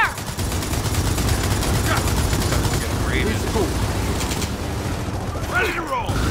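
Turret gunfire in Gears of War 4 rattles in a dense, sustained stream of rapid shots, loud and close, layered with other battle noise for several seconds.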